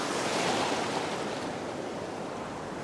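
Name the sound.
ocean waves breaking on a beach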